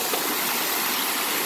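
A waterfall rushes in a constant, dense roar, loud and close, filling the whole stretch evenly without pauses or voices.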